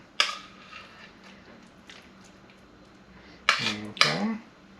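Guacamole ingredients being stirred in a bowl with a utensil, giving a few sharp clinks and scraping taps against the bowl, spaced irregularly with quieter moments between, and no talking.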